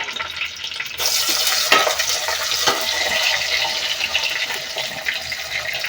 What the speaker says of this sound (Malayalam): സവാള ഒന്ന് ഒരു മൂന്ന് മിനിറ്റ് നേരം ഒന്ന് ഇളക്കി കൊടുക്കുക